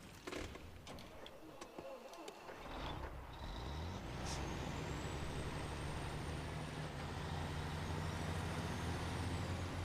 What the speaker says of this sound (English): See, this one's got a pleasing engine noise.